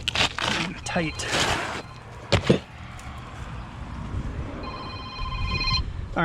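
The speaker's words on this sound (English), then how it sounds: "All right, sorry about the phone call there." A telephone rings at a roofing job, with several short electronic ringing bursts near the end over outdoor background noise. Scraping and handling of shingles come earlier, along with brief talk.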